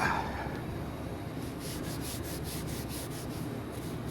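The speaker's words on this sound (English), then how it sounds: "I spent most of a Saturday afternoon over there with Scotch-Brite going over the entire ride" A Scotch-Brite pad scrubs a car body ahead of primer, making a steady close rubbing hiss, with a faint rhythmic pulse of strokes partway through and no voices.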